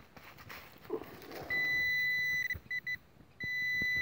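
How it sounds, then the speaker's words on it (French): Metal detector sweeping a field in Calvados, giving a steady high electronic tone that holds for about a second, breaks into two short blips, then sounds again, close and clear over faint outdoor rustling. "C'est le détecteur."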